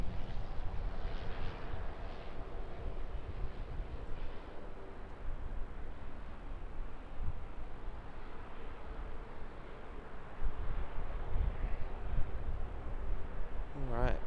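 An airliner arriving from Qatar at Auckland airport gives a faint, distant, steady roar that swells slightly toward the end, with a voice speaking over it.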